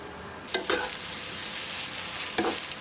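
Long eggplant being stir-fried in a hot pan as part of making Korean bibimbap, giving a steady low sizzle with a few distinct scraping stirs near the start and another near the end.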